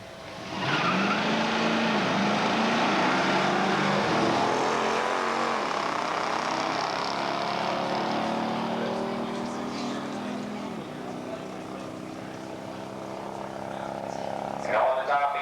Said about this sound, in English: A couple of Dodge products going at it. Both of them powered by the big 426 Hemi with the automatic.